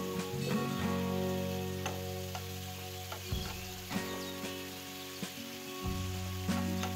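Cauliflower being stirred and fried in a pan over medium heat, a faint continuous sizzle with a few soft stirring bumps, under a steady background hum and no talking.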